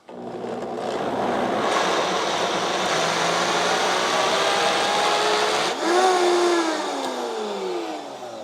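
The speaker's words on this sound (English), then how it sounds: "We're gonna go with the blender real quick, pardon the noise." A blender blending thick hummus roars continuously at close range, a dense churning whir that shifts pitch near the end as the load changes.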